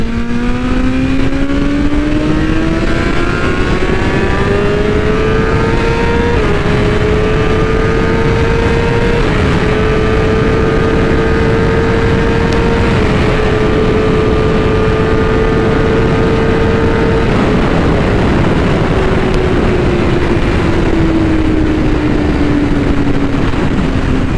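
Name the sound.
BMW M1000RR motorcycle being ridden hard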